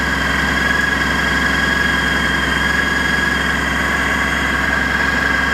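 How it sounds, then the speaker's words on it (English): A Honda trike engine runs steadily at idle after sitting unused for five years, freshly restarted following carburetor cleaning, giving a continuous, even rumble with a constant pitch and vibration, close and fairly loud throughout. "After 5 years of setting, this Honda Trike is running now."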